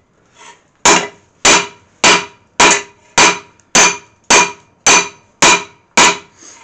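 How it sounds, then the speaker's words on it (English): Ten evenly spaced, loud ringing hammer blows on hot steel while forging a bill hook on an anvil, each strike sharp and close with a brief decay before the next. "when you hit the material, it expands"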